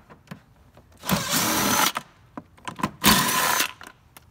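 Two loud bursts of an impact wrench with a 10 mm socket removing nuts on a GY6 scooter engine, whirring and rattling up close, each about a second long, with clinks and handling sounds between.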